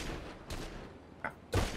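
In GTA V, a few sharp gunshots fire through non-bulletproof glass, with one softer pop and then a louder, heavier blast near the end, heard fairly faint against a low rumbling background with no talking.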